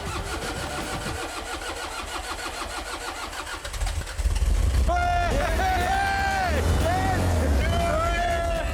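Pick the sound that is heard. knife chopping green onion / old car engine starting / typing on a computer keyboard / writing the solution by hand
old car engine starting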